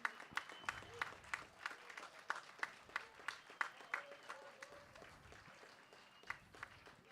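Scattered applause at a classic bench press cup competition for the winners, individual sharp claps spaced irregularly, faint and distant in a large room, tapering off toward the end.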